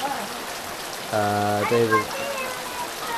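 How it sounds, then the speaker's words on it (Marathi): Morning monsoon rain falls steadily on a village home in Rajapur, Konkan, as a constant soft hiss throughout, while a voice briefly speaks over it partway through. "पाऊस चालू झालेला आहे."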